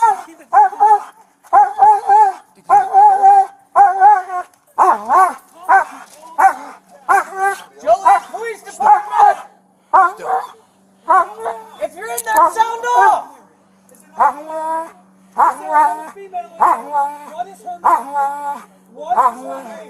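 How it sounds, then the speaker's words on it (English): A police dog barks loudly and constantly at close range during a bodycam arrest, its rapid barks and yips overlapping with officers shouting commands. "Dog's gonna bite you!"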